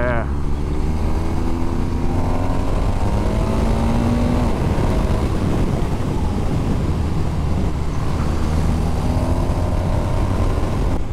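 A 2023 BMW R 1250 R naked sports motorcycle rides with a steady engine drone and rising and falling pitch, accompanied by wind and road noise, while someone talks over it.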